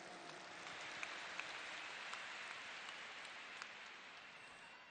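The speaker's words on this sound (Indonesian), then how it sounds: "Tepuk tangan untuk semua yang memilih hadir di sini." An audience claps in steady continuous applause at a large outdoor campaign rally in a stadium, forming a dense even wash of hand claps with a few sharper claps popping out, fairly faint and distant.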